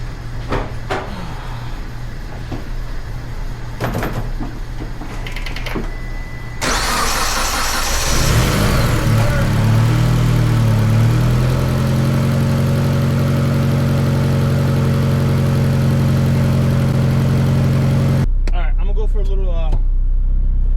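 A Mitsubishi Evo X engine, just after a fuel system repair, cranks and catches, then settles into a loud, steady idle for several seconds before cutting off abruptly.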